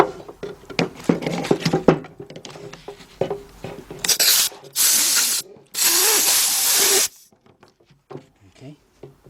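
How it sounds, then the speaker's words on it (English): An air-powered grinder cleans a cylinder head on a 2004 Chevy Monte Carlo 3.4 during head gasket work, firing in three loud bursts of high whine and hiss after a stretch of clanking handling noises. "I'm going to get my grinder right here. Get some, hook up my air right over here."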